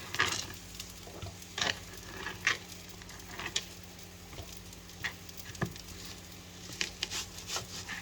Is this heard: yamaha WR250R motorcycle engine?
no